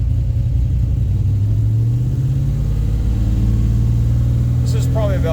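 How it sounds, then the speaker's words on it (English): A car sitting in park has its engine revved to about 2,000 RPM, a loud, deep rumble that rises and holds steady, with a brief voice near the end. "Here, we're going to give it some RPM."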